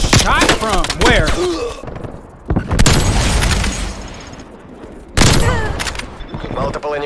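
Loud gunfire bursts out in a Call of Duty Cold War match, heavy volleys of shots and booms arriving in clusters, with someone talking between and over them.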